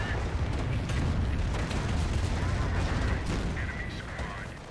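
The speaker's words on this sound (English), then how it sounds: "And here comes a Calliope." A Calliope rocket launcher barrage in Company of Heroes unleashes a dense, continuous roll of launches and explosions, heavy low rumble with scattered sharper cracks, loud and sustained, easing slightly at the end, with a voice faintly under it.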